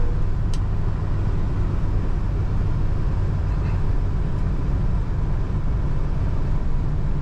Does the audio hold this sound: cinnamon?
no